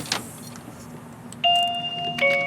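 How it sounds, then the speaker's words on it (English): A secondary doorbell sounds on smart home receivers after a small click, with a bright electronic chime tone ringing twice in quick succession, close and clear against a quiet room. "with this secondary doorbell, it actually rings to 2 different receivers, one downstairs and one upstairs"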